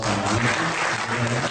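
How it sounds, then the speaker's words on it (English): Steady crowd applause fills the space, a dense continuous clatter of many hands clapping at a constant level throughout. "Can we give a round of applause for"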